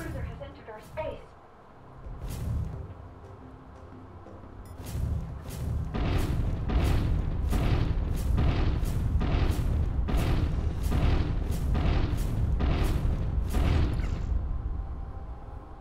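Missiles and fighters shot down by defensive cannons in Infinifactory, heard as a rapid, evenly spaced run of about a dozen loud booming explosions. A voice is briefly heard at the start.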